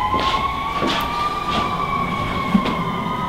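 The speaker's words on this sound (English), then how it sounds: "A fire truck." A fire truck siren in New York City wailing steadily with a rising-falling tone, fairly loud and near, over a low hum of street traffic.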